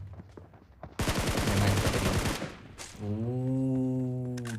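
Video game gunfire in a league-stage battle match: a dense burst of rapid automatic shots rattles out for over a second, then gives way to a sustained droning tone.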